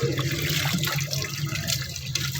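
Clean water runs steadily from a tap at a community water point in Kota Lintang Atas, Aceh Tamiang, giving a continuous, close splashing rush with no talk over it.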